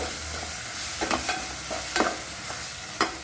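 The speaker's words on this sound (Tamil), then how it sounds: "சேர்த்து இந்த எண்ணெயில் நல்லா வதக்கணும்." Ground masala sautéing in oil for fish head curry: a continuous soft sizzle with a few sharp spoon scrapes and taps against the pan, no voices.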